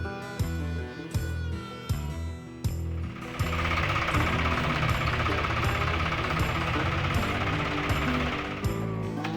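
A loader tractor engine runs nearby at a farm full of old machinery. Rapid, rough knocking beats come first, then the engine settles into a steady, dense, vibrating roar.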